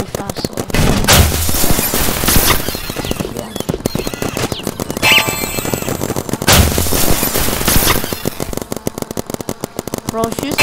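Paintball gun in the game Big Paintball firing in rapid continuous bursts, loud and dense, with brief pauses between volleys.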